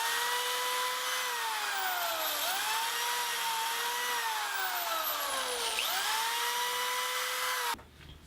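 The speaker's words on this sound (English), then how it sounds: "Let's pre-drill." A cordless drill bores pilot holes for screws in wood while a garden harvest basket is assembled; a loud, steady, close whine whose pitch sags twice as the bit bites, then cuts off abruptly.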